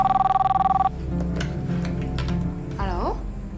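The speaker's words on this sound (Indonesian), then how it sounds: "Coba kamu telepon dia sekarang ya." Telephone bell ringing in a steady pulsing burst for about a second at the start of an Indonesian TV drama scene, then cut off as a low hum and voices carry on.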